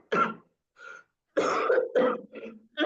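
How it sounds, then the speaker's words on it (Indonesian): A man coughs and clears his throat several times in short, close bursts during a Quran recitation, set against silence between them. "Maaf nih agak sedikit batuk."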